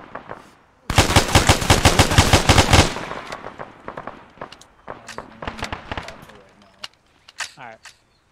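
Automatic gunfire in ArmA 3: a loud, rapid burst of about two seconds, then scattered single shots and short bursts at varying distances, with radio-style voices talking between them.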